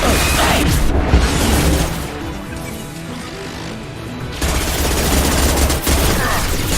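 Gunfire in the Mass Effect 2 video game, rapid automatic bursts and heavy impacts mixed with mechanical clatter and booms, loud and dense, easing briefly midway before another heavy volley.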